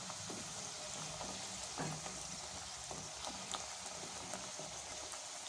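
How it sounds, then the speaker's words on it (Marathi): Puris deep-fry in hot oil for a restaurant-style veg thali, giving a faint, steady bubbling sizzle with scattered small crackles and no talking. "तर हे बघा आपल्या पुऱ्यासुद्धा आपण अशाच प्रकारे संपूर्ण तळून घेऊया"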